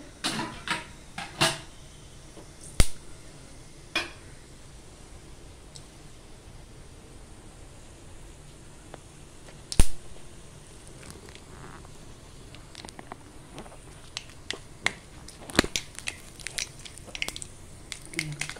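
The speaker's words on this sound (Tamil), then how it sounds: "கடுகு போட்டு தாளிச்சிருங்க" Mustard seeds splutter in hot oil for tempering an okra dish: scattered sharp pops and crackles burst irregularly over a low sizzling hiss, some loud and close, others faint.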